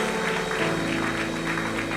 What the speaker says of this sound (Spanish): Denle un aplauso, que me estoy calentando en esta noche.